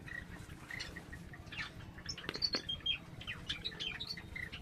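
Pet Java sparrows and cockatiels chirping softly in a home aviary, giving scattered short tweets and calls at low volume over a quiet background.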